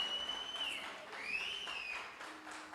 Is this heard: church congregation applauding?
yes